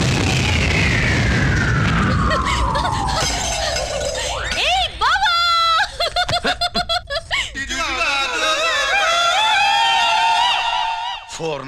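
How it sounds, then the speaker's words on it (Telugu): Firecrackers burst like bombs in a comedy film scene. A long falling whistle leads into warbling tones, then a quick run of sharp crackling bangs, followed by steady wavering whistles, all loud and close. "ఫోర్నాలు బాంబుల్లా ఫేలిపోయినాయి ఏంటి?"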